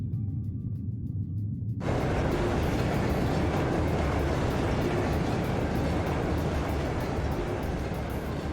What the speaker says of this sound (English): This train will be passing through at high speed